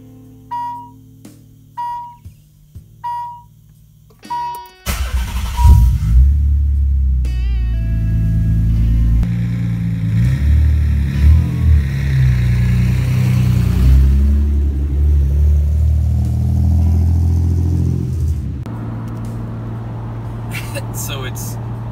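A Nissan 300ZX fitted with an RB26 engine drives at speed on the H1 highway at sunrise, its engine rumbling loudly and steadily after a few beeps. Chime-like tones open the run, and talk runs throughout.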